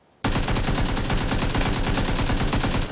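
Rapid automatic gunfire in a video game, a loud sustained burst of evenly spaced shots starting abruptly and running without pause.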